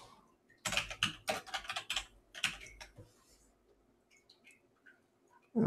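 Quick bursts of typing on a computer keyboard as a search is entered in a web browser, a rapid run of clicks followed by a few scattered keystrokes, close and fairly quiet.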